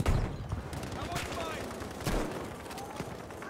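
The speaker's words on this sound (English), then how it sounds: "Shooting from the left." Rapid gunfire rattles through a Battlefield V match, bursts of automatic shots and sharp cracks near and far, with a loud blast at the start and another mid-way, amid battle noise.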